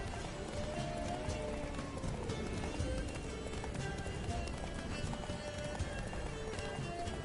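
Hooves gallop steadily at speed beneath a dense layer of music and ambient noise in the video game The Witcher 3: Blood and Wine, with an occasional whinny; no one speaks.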